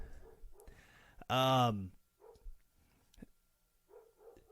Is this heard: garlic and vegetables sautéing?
no